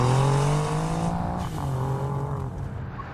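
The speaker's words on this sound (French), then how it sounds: "Le bruit de son moteur est tellement excitant." Ferrari Monza SP2 engine droning loudly and steadily while driving, a strong low harmonic tone shifting slightly in pitch as the car holds speed, close and continuous.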